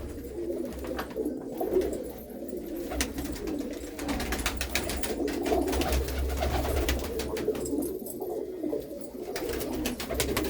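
A group of pet pigeons in a Punjabi village loft coos continuously in soft, low rolling calls, several birds overlapping at close range, steady and moderately quiet with no talking.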